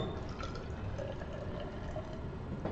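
Distilled water pours into a graduated cylinder in a lab, a faint, steady trickle with small splashes and gurgles throughout, then a short clink at the end.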